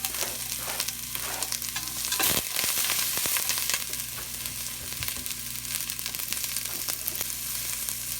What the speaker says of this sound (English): I'm going to throw in my onions, get those cooking